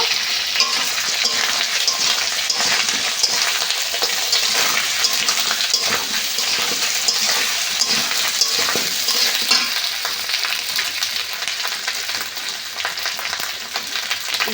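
Silver carp curry sautéed with ginger paste in a village-style kitchen: a loud, constant frying sizzle with rhythmic stirring scrapes of a spatula in the pan, close up and unbroken for the whole stretch, no voices.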